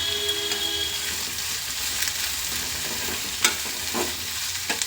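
Curry leaves fry in hot oil in a pan for a potato palya, making a continuous close sizzle with occasional sharp crackles and stirring clinks.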